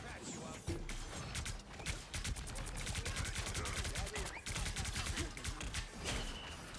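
Rapid video game gunfire rattles in fast automatic bursts mixed with shorter shots and mechanical clicks, fairly close, with a voice talking faintly over it.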